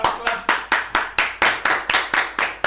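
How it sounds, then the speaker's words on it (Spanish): A single person claps their hands in a steady rhythm, about a dozen sharp, evenly spaced claps close to the microphone, each with a short decaying tail, and no talking over them. "¡Aplaude!"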